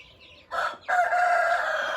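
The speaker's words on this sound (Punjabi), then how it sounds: "ਆ ਕੁੱਕੜ ਬੁਰਾ ਕੈਮ ਆ" An Aseel rooster crows nearby, a short opening burst followed by a long, loud, drawn-out call.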